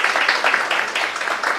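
Audience applause at a Pink October community event, a steady dense patter of clapping hands filling the room at moderate loudness, with no talk over it.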